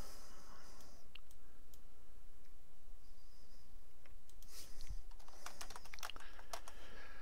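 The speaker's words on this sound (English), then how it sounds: "let's just type in" Steady typing on a computer keyboard at a desk, fast close key clicks in bursts over a constant fan-like background hum, with no talking.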